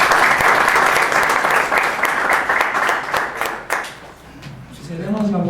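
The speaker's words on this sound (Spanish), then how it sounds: "Recibamos con un aplauso a nuestro conferencista de esta noche." An audience at a university evening lecture applauds to welcome the speaker, steady dense clapping filling the room before fading out as a voice begins talking over the end.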